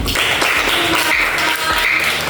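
A classroom of students applauding together after group presentations, a dense steady burst of clapping that stays loud and close for the whole stretch without any talking.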